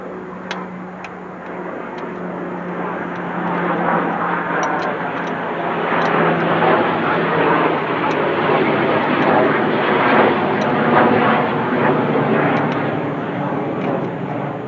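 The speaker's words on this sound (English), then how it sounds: "Apparently we're in the path of the airplanes today." A steady airplane engine drone overhead, swelling slightly louder midway, with faint ticking sounds scattered on top.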